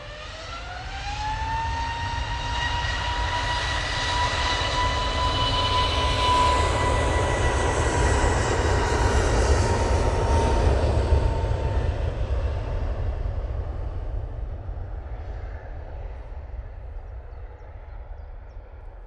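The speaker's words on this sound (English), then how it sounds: "Using that Easyjet A321neo for that flight" An Easyjet Airbus A321neo departs for Berlin, its jet roar swelling loud with rising whine tones, then slowly fading into the distance.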